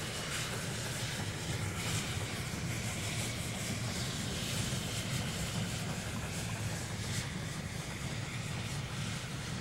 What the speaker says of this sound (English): a nicely turned out goods train is hauled by a former Great Western Railway pannier tank